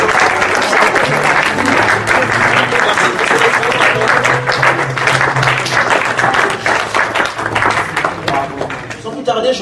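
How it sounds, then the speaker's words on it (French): A church congregation applauds and cheers God during a Sunday morning service, dense sustained clapping and crowd noise filling the room steadily, with voices mixed in, easing slightly toward the end. "Est-ce qu'on peut acclamer Dieu ce matin?"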